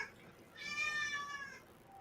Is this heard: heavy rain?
no